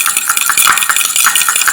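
A utensil quickly stirs and mixes leftover pizza ingredients in a dish, with rapid, rhythmic scraping and clinking strokes close up and fairly loud, no talking.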